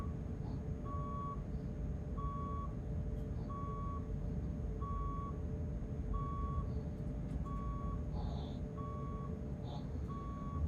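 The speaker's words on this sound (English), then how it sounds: "the reversing sound is not from the train, it's from the communication device or radio we use for shunting from the lookout" A shunting radio communication device gives steady, evenly spaced reversing beeps, about one every 1.2 seconds. They sound over a loud, constant rumble of rail yard engine noise, with a few faint clicks.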